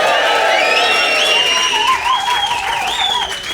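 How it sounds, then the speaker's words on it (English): A live audience at a rugby-themed stage show claps and cheers loudly, with sustained applause, whoops and whistles rising over the crowd noise, close and continuous throughout. "Can we have just a cheer for James Haskell?"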